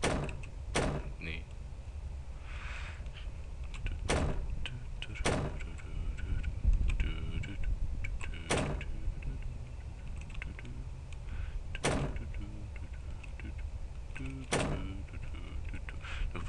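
Doors open in the horror video game Ao Oni: about seven sharp, separate clunks fall at irregular intervals over a quiet, low room-tone background.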